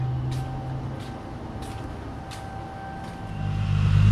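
A Toyota Supra with a full exhaust idles in a garage, a steady low rumble with faint regular ticking that swells louder near the end.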